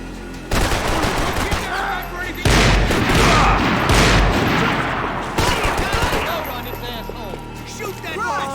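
Heavy gunfire in the video game Max Payne 3, first-person mod: dense bursts of shots and booming blasts through a cemetery firefight, with voices shouting over the din.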